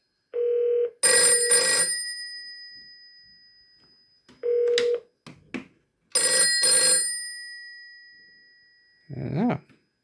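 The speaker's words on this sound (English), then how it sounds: "And as you can hear, it's ringing nice." A 1949 Western Electric Bell System 302 desk telephone ringing, loud close metallic bell bursts in two ring cycles separated by silence, with short tones and a brief voice between them.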